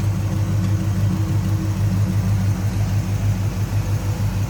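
A Chevrolet 350 V8 with headers, HEI ignition and an Edelbrock carburetor idles steadily in a 1980 K10 pickup, a smooth, even low rumble held close and loud without a break.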